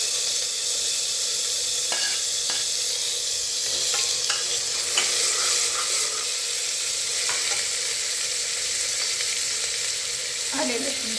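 Onion turning pink sautés with tomato in a pan for a Maharashtrian vatana batata bhat, a steady close sizzle with scraping stirs and occasional spatters, no voices.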